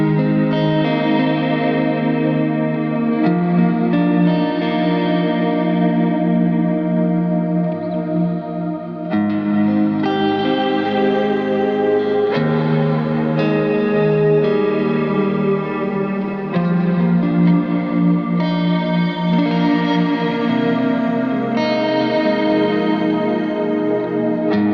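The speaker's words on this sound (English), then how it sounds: "this is the big wash reverb with it" Electric guitar running through a Strymon pitch vibrato plus a big wash reverb, lush sustained chords that warble in pitch and swell into a long, blooming tail, changing every few seconds.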